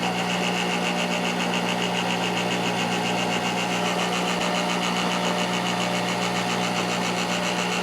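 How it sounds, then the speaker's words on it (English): A cheap Mastercraft bench grinder runs continuously nearby, a loud, even motor hum and whine with no breaks or voices. "here, listen to a Mastercraft grinder"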